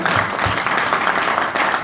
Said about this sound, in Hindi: एक बार जोरदार ताली आप लोगों के लिए